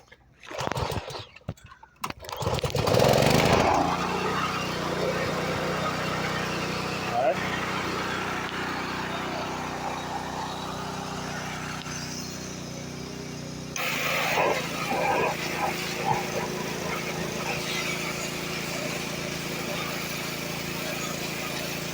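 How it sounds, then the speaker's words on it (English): A small Subaru pressure washer engine runs with a steady, loud drone after a clattering start, cleaning the wheels of a 2013 Chevy Tahoe, its tone shifting partway through as the spray changes, with speech heard at moments. "we're going to use our little Subaru pressure washer"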